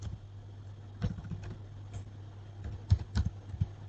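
Computer keyboard typing a ping command in a command prompt, a few soft scattered key clicks close by, quiet with short gaps.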